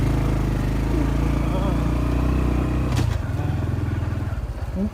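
Motorcycle engine on a forest trail, a steady loud droning hum with low harmonic bands that surges into revving around the third second, heard close and alone with no talk.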